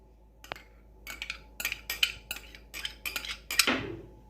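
A spoon mixing semolina, washed poha and curd in a bowl for sponge dosa batter, heard as close clinking and scraping strokes against the bowl in an irregular rhythm, with no voices.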